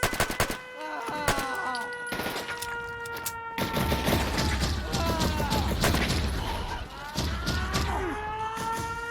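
Raider gunfire in the video game Fallout 4 crackles in rapid bursts of shots, with heavy sustained volleys and booms under a ringing tonal game score, dense and continuous throughout.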